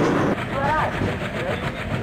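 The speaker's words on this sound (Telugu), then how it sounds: "యో, ట్రైన్ సౌండ్ కూడా మారింది" A train runs steadily in the Indian Railway Train Simulator mobile game, a continuous rumble with faint rhythmic rail clatter. Someone talks over it.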